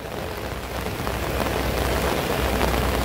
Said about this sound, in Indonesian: Cukup deras hujan